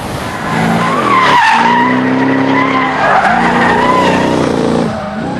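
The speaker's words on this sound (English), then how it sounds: "You can hear that glorious supercharge whining away." A powerful supercharged Jaguar XKR-based car engine roars with a high, rising supercharger whine, swelling and easing as it accelerates, loud and close with tire noise underneath.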